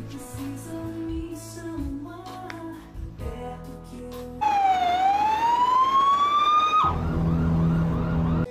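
A loud fire engine siren wails in a long sweeping rise, then cuts off abruptly into a lower, steady honking tone; quieter mixed sounds come before it.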